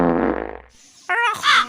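A fart in a dubbed comedy sketch, a loud buzzing burst in the first half, followed by a short tonal squeak and a higher squealing tail, with no talk over it.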